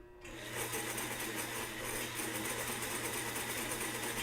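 A sewing machine stitches steadily up close, starting just after a brief quiet moment and then running as a continuous fast mechanical whir with a rapid regular rattle.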